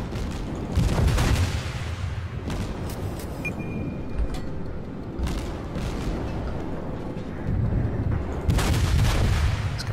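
Naval artillery from World of Warships fires in repeated deep booms as shells fly overhead. The rumbling blasts come in waves, with a few louder bursts standing out over the steady background of battle.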